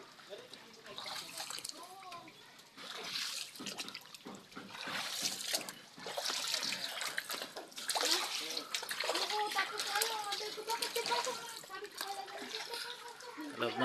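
Typhoon floodwater at high tide inside a house's kitchen, water splashing and sloshing close by as people talk over it throughout.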